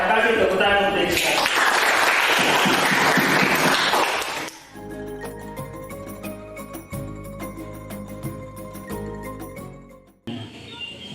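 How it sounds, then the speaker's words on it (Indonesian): Audience applause at a school event fills the first four seconds, a dense burst of clapping that gives way to music for the rest. "Terima kasih tepuk tangan untuk kita."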